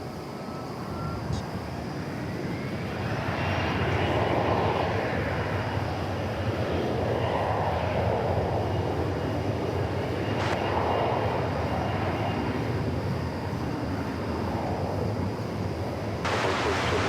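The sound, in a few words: airplane taking off at DFW Airport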